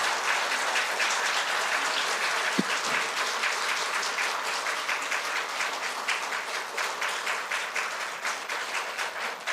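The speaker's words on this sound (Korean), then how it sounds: "여러분 박수로 우리 집사님을 환영해 주시기 바랍니다." A church congregation applauds to welcome a deacon at an Easter Sunday service, a steady, dense wash of clapping from many hands lasting throughout, with one sharp louder knock partway in.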